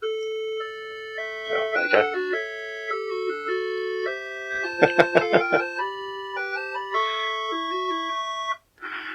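Le Mans racing game on a Tatung Einstein TC-01 computer, playing loud beeping chiptune tones that step through melodic runs with a burst of rapid repeated blips mid-way; someone briefly speaks near the end.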